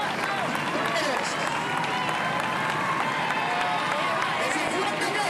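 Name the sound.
crowd applause at recortadores contest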